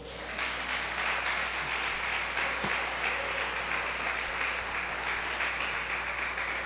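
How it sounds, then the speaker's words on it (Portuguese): A church congregation applauds together, a sustained broadband wash of clapping that holds steady for several seconds at moderate distance, with no speech over it. "Quem está entendendo aí, aplaude ao Senhor."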